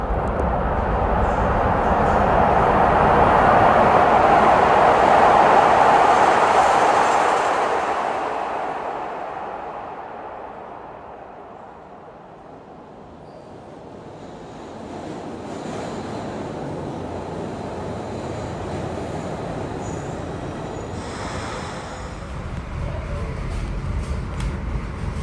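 Broad Street Subway cars from 1984, successors to the old Brill cars, rumble through a Philadelphia tunnel: a loud, broad roar swells and fades away, then settles into a steadier, lower running rumble.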